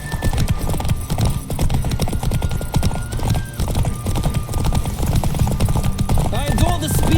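In The Witcher 3: Wild Hunt, a horse gallops in a fast, steady clatter of hoofbeats, loud and close throughout, with a whinny near the end and game music and voices mixed in.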